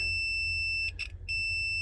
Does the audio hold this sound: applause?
no